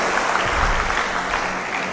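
Audience applause at a guidance seminar, a dense, loud and steady burst of clapping from a seated crowd, with no voices over it.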